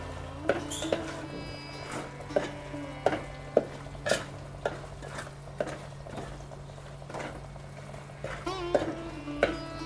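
A spoon stirs a mixture in ghee in a pan, repeated scraping clinks and taps at an irregular rhythm over a soft steady sizzle, close by, with some talk in the background.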